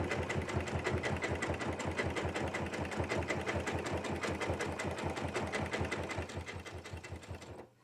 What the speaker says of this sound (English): right now I'm doing a serpentine stitch down the center